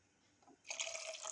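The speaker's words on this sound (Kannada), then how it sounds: "ಇಷ್ಟು ನೀರು ಹಾಕ್ತೀನಿ ನಾನು" Water splashes into a pot of vegetable gojju in a short, close pour that starts abruptly after a near-silent moment and runs on for the remaining second.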